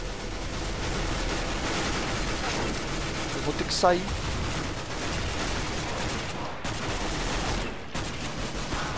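Rapid gunfire bursts from the video game Counter-Strike: Global Offensive run steadily throughout over a dense noisy backdrop, with a player talking over the shots.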